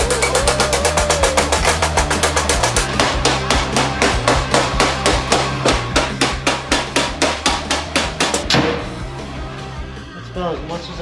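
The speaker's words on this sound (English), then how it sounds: "we're going to start hitting all the dents out of the fenders and stuff" A hammer beats dents out of the fenders of a 1950 Chevy 3100 short box truck: a long, rapid, steady run of loud metallic blows on sheet metal, slowing to a few scattered strikes at the end.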